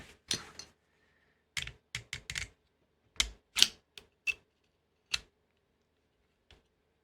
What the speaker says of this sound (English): there are grounding tabs, that's what was making the noise